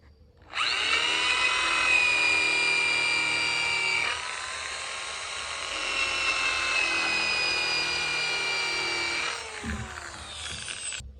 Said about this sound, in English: I am using a countersink because I want the head of the screw down below the nails